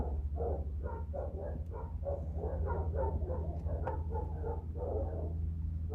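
Dogs bark in a quick, repeated series of short yaps over a constant low electrical hum, moderately close and fairly even in loudness.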